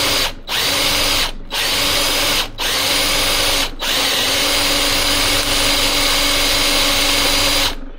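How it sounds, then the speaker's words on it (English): A power drill runs loudly and steadily, drilling out holes in the body of a 1976 BMW 2002, stopping briefly four times early on before whining on without a break. "Now I'll see if I can drill the holes out, right?"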